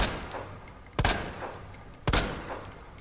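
Two sharp gunshots about a second apart over a low, steady background hum, each with a short echoing tail, in the video game Resident Evil 2.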